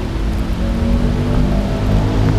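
Loud, dense outdoor rain hiss, a continuous broadband wash with a strong low rumble and no talking.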